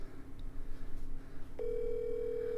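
Outgoing telephone call placed to a for-sale-by-owner home seller: a steady tone sounds on the line, clear and close, running unbroken for about a second after quieter room noise with no talking.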